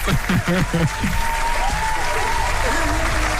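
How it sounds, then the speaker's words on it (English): Studio audience in a radio studio breaks into a round of applause for a guest artist, dense steady clapping that fills the room while a voice talks over it near the start. "Round of applause again for Falz."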